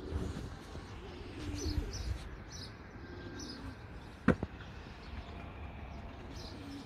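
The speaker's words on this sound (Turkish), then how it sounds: "Bu dişi sabunimizin kanat sesi de muazzam." A young female Sabuni tumbler pigeon gives a quick pair of sharp wing claps close by, heard once against faint cooing and chirping from other birds.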